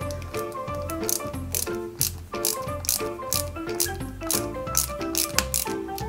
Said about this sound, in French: Et ensuite, on n'a plus qu'à y mettre la vis HM.